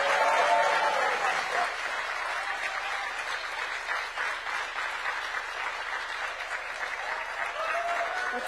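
Audience applause fills a university hall at a presidential event, a dense sustained clatter of many hands clapping that starts strong and continues steadily throughout.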